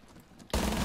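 Gunfire in Rainbow Six Siege bursts in halfway through, loud and dense, a sustained fusillade following a quieter stretch of game ambience; the shots come as a wall bang against a window position.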